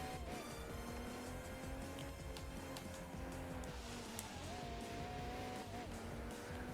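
A Mercedes A190 Twin drives in the racing game Mercedes-Benz World Racing, its engine a steady droning whine that rises and falls with gear changes, loud and continuous, with a brief tire squeal near the middle.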